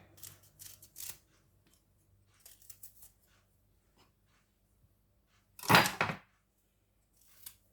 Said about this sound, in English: So now we're gonna start by peeling out ginger.